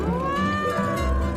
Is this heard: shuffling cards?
no